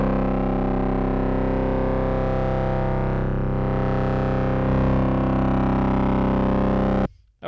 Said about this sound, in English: I can throw in an overdrive.